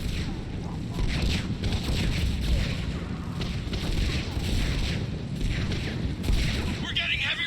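Rapid gunfire and booming weapon blasts from the Mass Effect 3 game in a heavy combat scene, dense and continuous at steady loudness, with voices talking over the battle.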